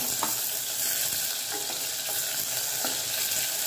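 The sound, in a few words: tomato added to frying onion, ginger-garlic paste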